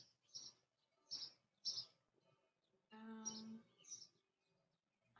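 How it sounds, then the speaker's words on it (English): Birds chirp in bursts of short, high tweets with quiet gaps between them, fairly faint and in the background. "You have a lot of background noise because of all the birds."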